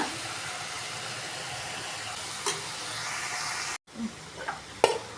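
Tomato and turmeric fry in a pan for a Kannada-style okra palya, a steady close sizzle with a few scraping stirs and clinks, a brief gap, then spatula knocks near the end; no talking.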